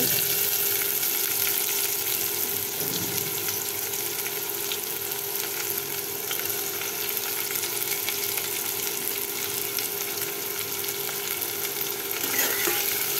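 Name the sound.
chopped onion frying and being stirred in pan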